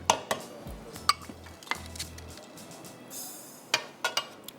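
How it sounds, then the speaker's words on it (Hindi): Noodles are mixed with chili garlic and sweet chili sauce in a pan, with scattered metallic clanks and scrapes of a utensil against the pan, irregular and close, over a low hum. "सबको अच्छी तरह मिक्स करेंगे"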